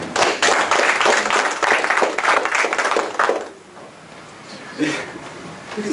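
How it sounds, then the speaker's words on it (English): An audience claps in a hypnosis demonstration, a dense, loud round of applause for about three seconds that then drops away to quieter room sound, with voices over it. "Give me a round of applause."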